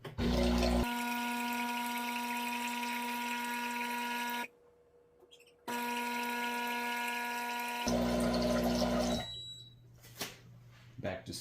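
A Breville Barista Pro espresso machine pumps out hot water with a loud, steady tonal buzz, pausing for about a second before resuming, then turning into a lower rumble and tailing off into faint hiss and clicks.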